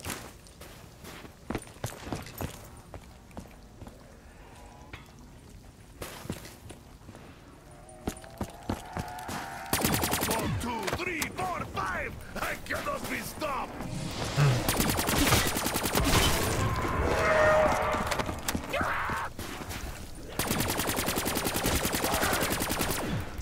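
Rapid gunfire in Call of Duty: Black Ops 3 Zombies, with bursts of automatic shots and clicks that grow louder and denser over the second half, mixed with game effects.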